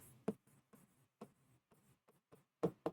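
Marker or chalk writing on a board while a maths problem is worked: a string of short, close scratchy strokes and taps in an irregular rhythm, with quiet gaps between them and no talking.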